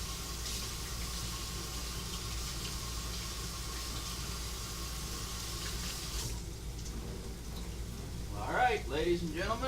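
Cold water runs from a faucet in a kitchen sink over crawfish being rinsed, a constant hissing flow that cuts off partway through, followed by a brief voice.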